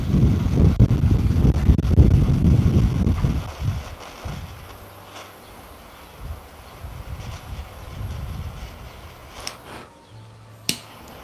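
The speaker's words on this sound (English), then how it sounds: "Pretty windy in Estelí, Nicaragua." Strong wind in Estelí, Nicaragua buffets the microphone in heavy low rumbling gusts, then eases into quieter breezy noise with a couple of sharp knocks.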